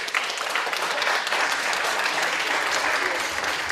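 A music show audience applauds a singer as he takes the stage, a continuous wash of many hands clapping, steady and full throughout with no pauses.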